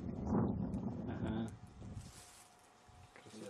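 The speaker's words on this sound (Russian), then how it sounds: "ветер, ладно, без снега еще" Cold outdoor wind rushes and buffets against the microphone in a soft broadband hiss. A voice talks briefly at the start before the gusting noise carries on alone.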